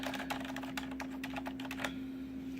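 Keystrokes on a backlit mechanical keyboard fitted with Cherry MX Red silent switches, a quick close patter of soft clicks that stops after about two seconds, over a steady low hum.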